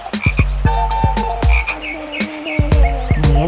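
Cartoon frog croaking in a rapid, repeated series of bright, clicky croaks with a steady rhythm, loud and close, with no talk over it.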